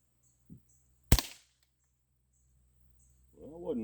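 A single sharp shot rings out from a Crosman CO2 pistol aimed at a target, loud and close with a brief decay, followed by a voice after a pause.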